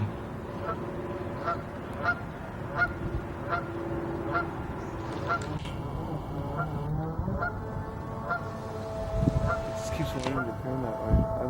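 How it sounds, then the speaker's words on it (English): Geese honk repeatedly in a steady series of loud, nasal calls near water where a small RC boat is being driven, with people talking at times over the calls. "Stay away from the geese."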